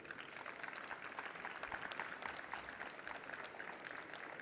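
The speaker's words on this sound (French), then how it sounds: "On peut encore vous applaudir." Faint, sustained clapping from an audience at an export awards ceremony for eco-businesses, an even patter of many hands heard from a distance.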